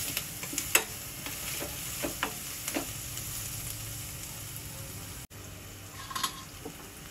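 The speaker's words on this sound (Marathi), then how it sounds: "लसूण, मिरची आणि किसलेलं आलं, आणि आता कच्चेपणा जाईपर्यंत छान परतून घेऊया" Garlic, green chilli and grated ginger sautéing in a pan for pav bhaji, a steady close sizzle with occasional light clicks of stirring against the pan.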